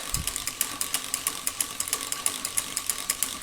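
A 1917 Ford Model T engine valve is lapped by hand with grinding compound. A close, quiet, regular gritty ticking repeats steadily at about four strokes per second.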